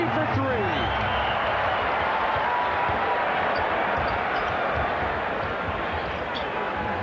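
Steady roar of a packed basketball arena crowd at a Lakers game, dense continuous murmur and rumble with faint squeaks and bounces underneath, while commentators talk over it.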